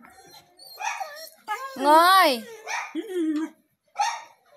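A dog barks and yips close by in a few sharp, whining bursts, with a voice calling out between them.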